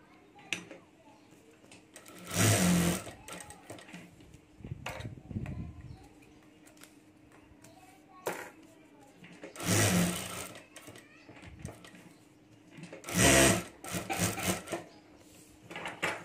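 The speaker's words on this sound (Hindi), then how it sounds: "उसके ऊपर ये रबर शीट, और उसके ऊपर ये फैब्रिक रखकर हमें सिलाई कर देनी है।" A sewing machine stitches fabric layered over a rubber sheet for a mini backpack keychain, with several loud bursts of rapid stitching separated by pauses while a person talks in between.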